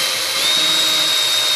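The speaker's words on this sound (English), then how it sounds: "we need to drill up toward the mark" A power drill runs steadily at high speed, boring toward a mark on a model glider's motor collet; a loud, continuous whine, close and alone with no pauses.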